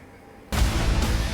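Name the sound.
explosion from an airstrike in South Lebanon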